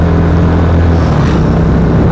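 A stock 150cc Yamaha Versa motorcycle engine hums steadily under riding, a constant low rumble with wind noise, close and loud throughout, no talk.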